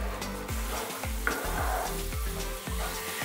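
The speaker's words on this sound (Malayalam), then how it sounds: "ഒരു 2-3 മിനിറ്റ് നന്നായിട്ട് വരട്ടിയെടുക്കുക." Carrot halwa sizzles and fries in ghee in a pan while a spatula stirs it in steady repeated scrapes, a continuous close crackle with rhythmic stirring strokes and no talking.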